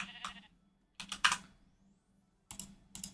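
Minecraft sheep bleating, several short bright bleats in separate bursts with silent gaps between them, close and clear.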